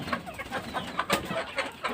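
Free-range desi hens clucking close by, several soft, scattered clucks and chirps over a busy, noisy farmyard background.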